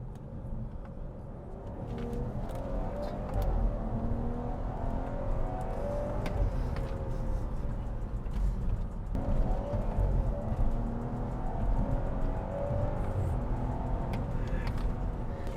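A 2017 BMW 540i G30 accelerates with sports mode and sports gearbox engaged, its engine note rising in steady sweeps under heavy road and tyre noise inside the cabin, with a gear change partway through.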